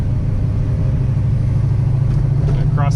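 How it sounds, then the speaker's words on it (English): A warmed-up drag race car idles at a drag strip, its loud, steady low-end engine rumble running continuously throughout, with a faint higher tone briefly rising near the end. "So we got the car out. It's almost warmed up."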